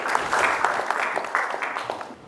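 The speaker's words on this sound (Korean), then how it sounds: "큰 박수 부탁드리겠습니다." Applause from the audience at a Korean academic policy conference, a brisk burst of many hands clapping with some louder individual claps, fading out within a couple of seconds.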